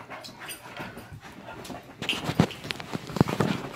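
Dogs scuffling, with whimpers, thumps and scrabbling paws, growing louder and rougher in the second half.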